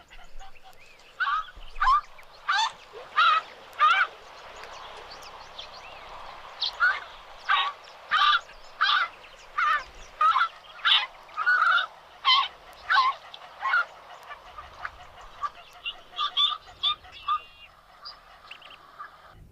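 Hadeda ibis calling outdoors, a long series of loud, harsh, nasal honking cries in rapid rhythmic bursts, close and clear over quiet background, tapering into shorter calls at the end.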